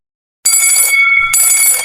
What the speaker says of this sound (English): The alarm bell rings.